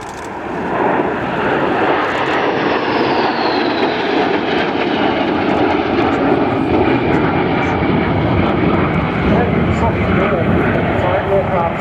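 A Sukhoi Su-22 Fitter jet makes a pass at an air show, its loud roaring engine noise sustained throughout with a gradually shifting whine as it flies by, and some crowd or commentary sound beneath.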